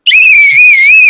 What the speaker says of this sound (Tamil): அப்ப இப்ப எந்த நாய் விசில் அடிச்சுன்னு இருக்குது?